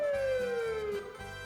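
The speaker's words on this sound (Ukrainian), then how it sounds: "Це знову їде пожежна машина." A fire engine siren wails with a steady, descending tone through a continuous mid-level din. No one speaks.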